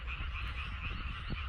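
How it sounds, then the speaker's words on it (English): Frogs croak continuously at a boggy pond in gardens, a dense, steady chorus of rasping calls filling the background, fairly faint and alone without talk. "Frogs."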